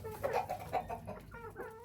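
Chickens on a farm cluck softly in a quick run of short, nearby calls over a quiet background.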